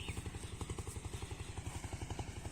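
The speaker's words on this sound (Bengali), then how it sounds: "ওই যে একটা বোট যাইতেছে।" A motorboat passing by a tobacco field, its engine a steady rapid chugging throb that stays loud and close throughout, with no talk over it.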